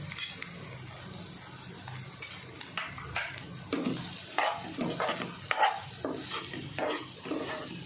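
Stuffed-vegetable masala fries in a pan over medium heat under a low sizzle, while a spatula scrapes and clinks against the metal in repeated irregular strokes, close and moderately loud, with no speech.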